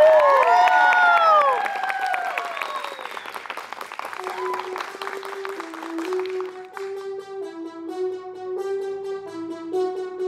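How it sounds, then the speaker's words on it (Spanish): Loud applause and cheering from a concert audience fills the first few seconds, then fades beneath a melodic instrumental tune that carries on to the end. "Fuerte aplauso para él."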